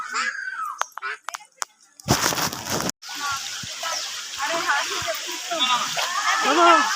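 Water splashing and sloshing as someone wades across a stream near Kongula waterfalls, with excited voices and shouting over the rushing flow.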